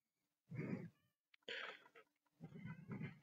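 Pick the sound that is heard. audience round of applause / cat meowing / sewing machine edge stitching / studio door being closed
cat meowing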